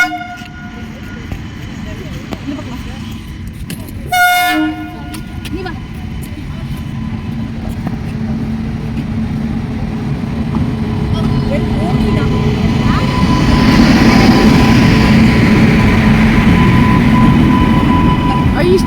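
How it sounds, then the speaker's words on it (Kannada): A small train rolls past outdoors, its steady rumble building and growing louder over the stretch, with a brief horn toot early on and voices talking over it. "ಚಿಕ್ಕ ಟ್ರೈನ್ ಹೋಗ್ತೈತೆ"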